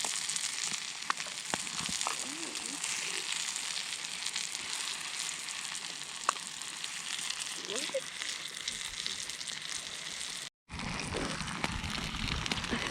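Chicken sizzles in a pan over a campfire with embers, a steady close crackle and hiss with occasional faint pops and stirring sounds.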